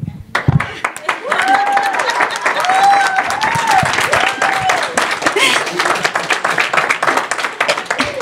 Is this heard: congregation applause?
yes